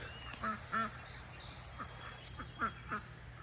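Ducks on a farm quack in short clustered calls at moderate distance, several separate bursts over a steady low background hum.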